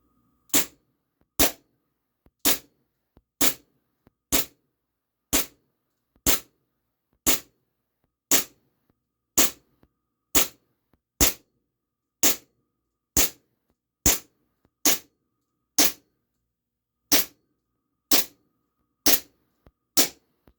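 A Steyr L9-A2 CO2 blowback airsoft pistol fires .20 gram BBs into ballistic Play-Doh: twenty sharp, loud shots in a steady, evenly spaced series, each a crisp snap with no talking between them.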